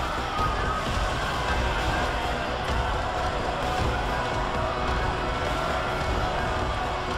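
A crowd in the video game Deus Ex: Human Revolution makes a dense, loud, steady commotion with siren-like tones blended into the continuous din.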